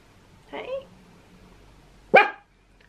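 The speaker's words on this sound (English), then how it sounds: "Everybody knows you're here and you're a big, strong, barky boy" A big dog gives two separate barks indoors, the first a shorter muffled woof and the second louder and sharper about a second and a half later, close by with quiet between them.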